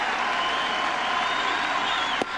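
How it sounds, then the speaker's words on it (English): Yankee Stadium crowd cheering steadily at a 1998 Toronto–Yankees baseball game with the pitcher holding two strikes, a dense, loud sustained roar of the stands that holds level throughout with a brief sharper burst near the end. "No crowd like the Yankee Stadium crowd when a pitcher has 2 strikes"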